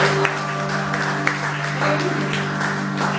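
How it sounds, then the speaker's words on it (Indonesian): A church congregation at a GBI service in Oarai, Japan, applauds with steady, dense clapping that fills the whole stretch, with sustained music tones running underneath. "Berikan tepuk tangan yang lebih meriah."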